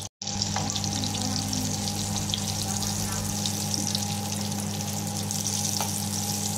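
Turon, banana rolls, fry in oil in a pan with a steady, close sizzle and faint crackle throughout, joined by a low constant hum and a few soft clinks.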